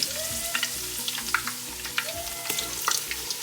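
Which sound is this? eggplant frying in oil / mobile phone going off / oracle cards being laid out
eggplant frying in oil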